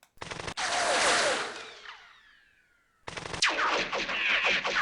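Machine gun fire in the war game West Front: a sustained loud burst that fades out, a short pause, then a second rattling burst starting up.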